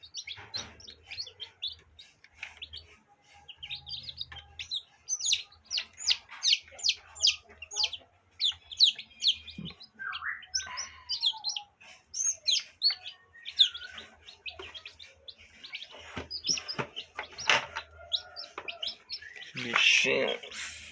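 Newly hatched baby chicks from a first home-incubator hatch peep in rapid, high bursts of overlapping chirps, fairly close and steady, with a brief louder flurry near the end.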